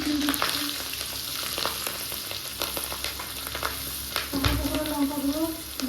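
Dried red chillies, slit green chillies and turmeric fry in hot oil with a loud continuous sizzle and crackle, punctuated by quick stirring clatters and a sharper burst near the end; no talking.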